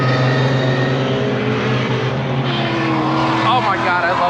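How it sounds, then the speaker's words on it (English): A Nissan 350Z drift car engine drones loudly and steadily at high revs, a continuous buzzing roar that wavers slightly throughout, with no pause. "I love a drift setup on a 350Z"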